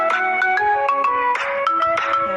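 A phone ringtone plays a bright, repeating electronic melody of quick, evenly spaced notes, clear and close with nothing else audible.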